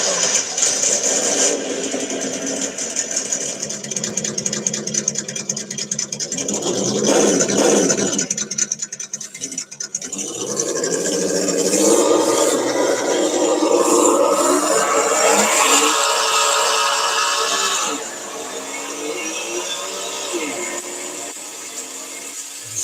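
Simulated big-block engine rumble from the sound generator of a radio-controlled model truck, a steady continuous drone that rises and falls in pitch for over twenty seconds, loud and close, with no talking over it.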